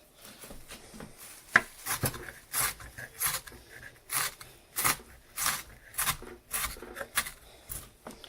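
Food chopped into small pieces with a knife on a board: a close series of crisp, regular thuds, roughly one every half second, with soft scraping between the strikes and no speech.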